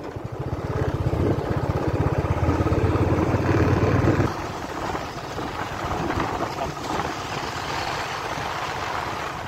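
A motorcycle engine hums steadily on an uphill road toward Nahargarh in Jaipur. It drones louder for about four seconds, then settles to a lower, steady throttle with wind noise.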